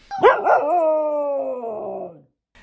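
Ezra the dog gives a long, drawn-out howl played back from a recording, opening with a couple of rising yelps and then holding one wavering tone for about two seconds before stopping.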